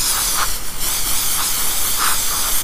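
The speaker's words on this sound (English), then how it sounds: "Just give it a nice spray." Throttle body cleaner sprays in a steady, close hiss onto the throttle body of a G35, with slight pulses in the spray and no talking.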